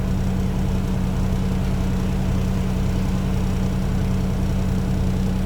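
A Freightliner Cascadia truck's DD15 diesel engine runs steadily through a forced regeneration, giving a constant, loud low hum with a strong droning tone and no break for the whole stretch.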